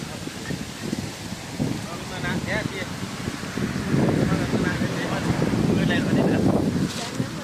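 Wind gusts across the microphone outdoors beside a canal while fish grill nearby, a rough, blustery rumble that swells and fades with someone talking over it.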